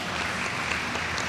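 Audience clapping at a park summer programming event, a dense steady patter of many hands held at an even level throughout, fairly close.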